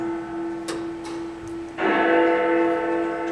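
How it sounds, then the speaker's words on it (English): A neighbouring church bell chimes the hour, its strikes ringing out with long sustained tones that swell louder partway through, set against a steady low drone in a quiet night scene from A Christmas Carol. "the chimes of the neighbouring church struck"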